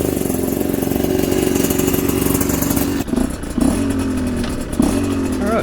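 A Chinese dirt bike engine pulling away in first gear, a loud close buzzing single-cylinder drone that steadies, then dips and revs up again in a few short surges.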